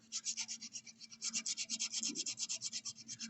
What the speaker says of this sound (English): We're going to fold the finer sandpaper, the 120, the finishing sandpaper, to finish up this corner here.